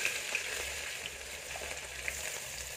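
Chopped onion fries in hot oil for matar aloo sabji, giving a steady, close hiss and crackle with small pops and no talking.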